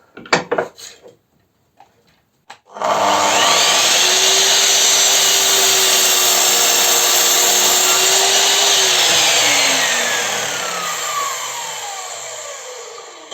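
A Metabo KGS 216 M mitre saw in a workshop starts after a few clicks and knocks, whines loudly at steady high speed while cutting smoothly through wood, then winds down as the blade slows.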